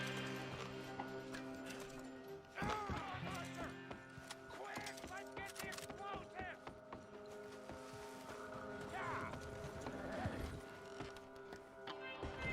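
Horse hooves clip-clop in Red Dead Redemption 2, irregular hoofbeats under game ambience, with a voice talking over them.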